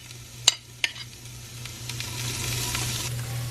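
Onions dropped into a hot pan, two sharp clatters followed by a building, steady sizzle that grows louder and fills the rest of the moment, close by and without talk.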